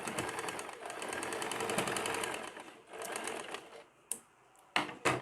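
A sewing machine stitches the crotch gusset seam of an extra-large night pajama, running continuously and evenly for about four seconds nearby, then stopping with a couple of short clicks and a brief final burst.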